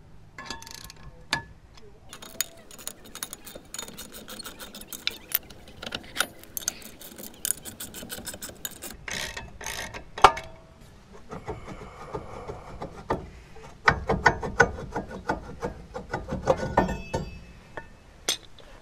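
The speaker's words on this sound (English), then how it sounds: "Now we're going to evenly tighten these two bolts up to push the rotor off of the hub." Sharp metallic clicks and clinks come from evenly tightening caliper bolts to push a brake rotor off the hub of a 2014-2018 Chevrolet Silverado, in irregular bursts up close.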